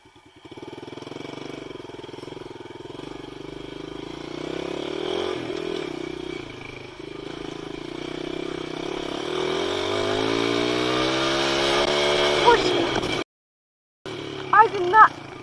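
A dirt bike ridden along with its engine droning steadily, climbing in pitch as it revs harder, then cutting out briefly before a few clattering knocks; the motor is loud and close throughout.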